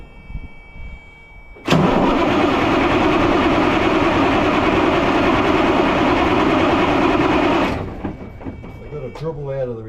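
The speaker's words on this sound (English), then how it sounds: "Give it another crank, Tom." A Peterbilt truck engine cranks and turns over in a loud, steady mechanical churn lasting about six seconds, then cuts off abruptly, with faint talking and clatter before and after.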